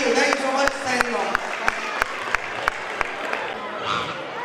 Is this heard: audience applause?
yes